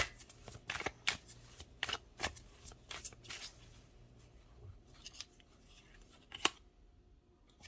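Tarot cards being shuffled and drawn by hand, a series of sharp riffling snaps and soft slides, close and fairly quiet, with irregular rhythm that thins out toward the end.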